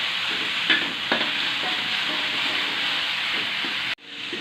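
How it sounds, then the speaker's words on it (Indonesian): Spices stir-frying in a pan for noni leaf fried rice, giving a steady close sizzle with a few scraping stirs, then a sudden cut and a softer sizzle at the end. "Kita tumis sampai kering"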